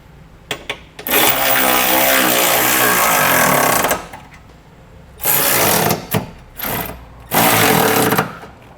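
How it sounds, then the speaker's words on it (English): A power tool with a 19mm socket tightens Curt trailer hitch bolts on a 2016 Ford Taurus: a few short blips, one long whirring three-second run, then several shorter bursts, loud and close. "With everything started, we can go ahead and tighten down our hardware"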